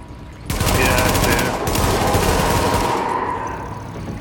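Sustained automatic gunfire in the video game The Division, during a precinct siege: loud, rapid bursts crackling continuously for several seconds at close range, with a brief pause partway through.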